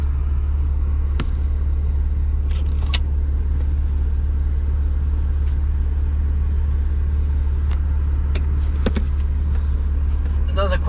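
A 2001 BMW 330xi drives along with a steady, loud engine and road rumble that stays constant throughout, with a few brief clicks and knocks as gears are shifted.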